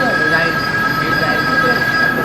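A train rumbles loudly through a crowded railway station at a Mahashivratri festival rush, its wheels squealing in a sustained high whine above a dense roar. The sound is close and continuous.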